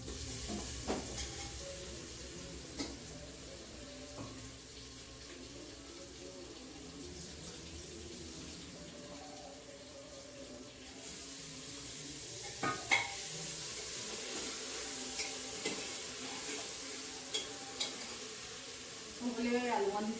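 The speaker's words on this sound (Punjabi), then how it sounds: "ਤੜਕਾ ਹੋ ਗਿਆ ਆਪਾਂ ਪਾਣੇ ਆਲੂ ਵਿੱਚ ਇਹਦੇ" Diced potatoes are tipped into hot tempering oil for a home vegetable curry, giving a faint, steady sizzle with scattered clinks and stirring while a person talks over the cooking.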